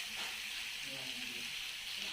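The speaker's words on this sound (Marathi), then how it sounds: "आपण याच्यात कोबी टाकलेला हा फक्त 2 मिनिटं आपल्याला परतवून घ्यायचा आहे" Shredded cabbage sautéing in a hot pan for a veg noodle pakoda filling, a steady soft sizzle and hiss with faint stirring, fairly quiet and continuous.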